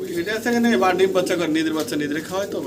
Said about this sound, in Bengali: দুইটা কবুতর দেখতে মাশাআল্লাহ অসাধারণ সুন্দর।